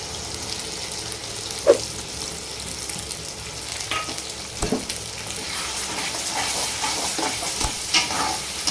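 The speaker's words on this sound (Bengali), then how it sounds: "এটাকে ভালো করে নাড়িয়ে নেব" Prawn malai curry with cashew paste is stirred in an oily pan, with soft scraping strokes and a few sharp utensil knocks over a low, continuous sizzle, close and moderately loud.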